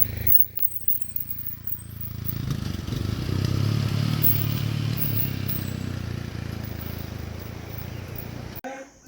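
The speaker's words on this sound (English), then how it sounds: "They got these 150 and 200cc off-road bikes, and they just carry everything up here." A 150 to 200cc off-road moto taxi motorbike labors along a mountain trail, its engine drone swelling louder and rumbling steadily nearby before fading slightly at the end.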